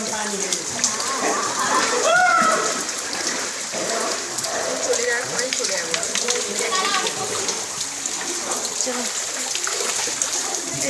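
Water pouring and rain falling in a river canyon during a trek, a steady loud splashing wash heard close, with voices talking over it.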